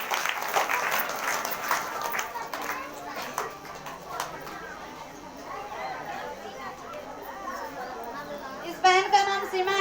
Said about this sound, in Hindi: परमेश्वर को जोरदार तालियों का धन्यवाद देती है।